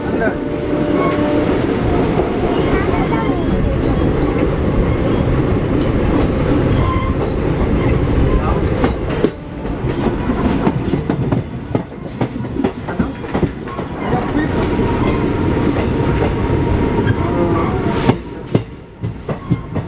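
A passenger train runs on rails as it approaches Kiul Junction. The steady loud rumble and clatter of the wheels carries on throughout, with brief rhythmic clicks and a few sharper bangs near the end.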